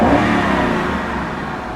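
A Mazda6 car engine revs loudly and steadily up close, its throaty roar holding for a couple of seconds with no voices.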